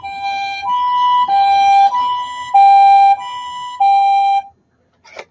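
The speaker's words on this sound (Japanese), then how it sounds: "すごいな、救急車。" A toy ambulance gives out a loud, close Japanese-style two-tone siren, alternating high and low notes in an even steady rhythm for about four seconds before stopping, followed by a short faint click.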